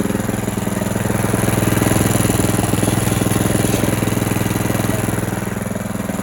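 DTZ 470B walk-behind tractor engine running in reverse gear, a loud steady single-cylinder chug with a fast even pulse, close by and unbroken throughout, no talking.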